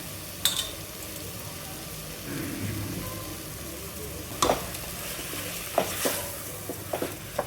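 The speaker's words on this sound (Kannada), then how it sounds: "ಈಗ ಅಕ್ಕಿ ತೊಳೆದು ಇಟ್ಕೊಂಡಿದ್ದೆ, ಈಗ ಅಕ್ಕಿನೂ ಹಾಕ್ಕೊಳ್ತಿದ್ದೀನಿ" Washed rice is tipped into a pan with vegetables for pulao and stirred, a soft sizzle under scraping spoon strokes and a few sharp clinks against the pan, close and moderately loud.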